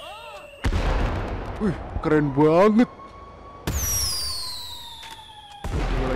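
New Year fireworks shot upward outdoors: sharp bangs with rising and falling whistles, a crackling burst and a long shrieking rocket, all close and loud, while excited voices exclaim in between.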